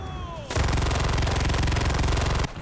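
Loud, sustained machine gun fire from the video game Enlisted: one rapid automatic burst of about two seconds, with quieter game ambience before and after.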